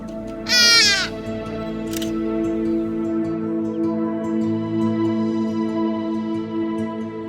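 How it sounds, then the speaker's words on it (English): A loud, raucous Hadeda ibis call bursts out near the start, followed by a harsher squawk, then fades into a steady hum of background noise, in Hluhluwe-iMfalozi game reserve. "the Hadeda ibis, a noisy bird aptly nicknamed Africa's alarm clock."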